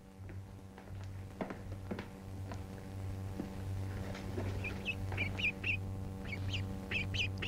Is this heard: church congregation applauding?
no